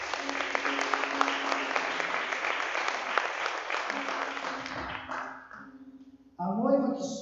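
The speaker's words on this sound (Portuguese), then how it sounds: "você pode aplaudir o Senhor?" A church congregation at a Sunday service claps together for about five seconds before the applause dies away, followed by a voice speaking near the end.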